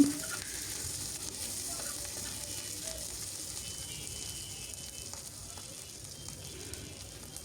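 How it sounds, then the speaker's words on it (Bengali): Onions and chillies fry in a pan, a faint, steady sizzle with light scraping and ticking, close but quiet, without talk. "পেঁয়াজ মরিচ ভাজা হয়ে গেছে এখন দিয়ে দিব পরিমাণ মতো লবণ"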